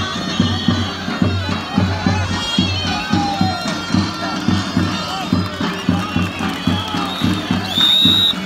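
At an outdoor karakucak wrestling event, a crowd claps in a steady rhythmic beat and cheers around the wrestlers, loud and close, with a booming amplified voice and drum-like thumps mixed in.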